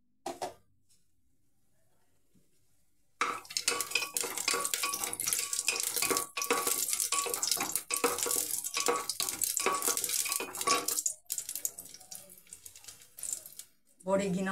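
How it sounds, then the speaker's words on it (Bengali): Bengali lentil dumplings (bori) drop into hot oil after a quiet pause and set off a loud, dense crackling sizzle with sharp pops that carries on until near the end. "এর মধ্যে এই বড়িগুলো ভেজে দিলাম।"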